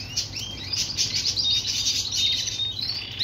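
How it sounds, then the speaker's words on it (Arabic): A Super Shirazi cluster canary sings up close in a string of bright, rapid chirps and trills that run steadily through the whole stretch, with a faint low hum underneath. "هذا تصوير الطير من قريب، شوفوا حجمه"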